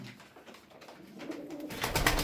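Mardin pigeons coo and rustle in a low, steady murmur that swells louder toward the end, with no voices.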